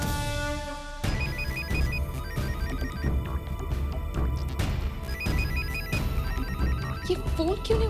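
A phone ringing in a tense domestic drama scene, a repeating electronic ring tone heard over a music score with a steady beat and occasional voices.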